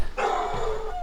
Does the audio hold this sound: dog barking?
yes